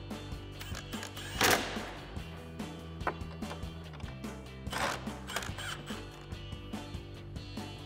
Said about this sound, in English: Now we'll go ahead and tighten down the ones in front with our 10 millimeter socket